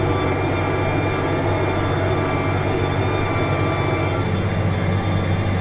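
A New Holland T6.175 tractor engine runs in a loud, constant, close drone that holds at the same level throughout, with no talking.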